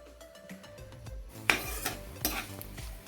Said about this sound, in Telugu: అవి చిట్పట్ అన్నాక మిగిలిన పోపులన్నీ వేసేసి గోల్డెన్ బ్రౌన్ కలర్ వచ్చేంత వరకు ఫ్రై చేసుకోవాలి వాటిని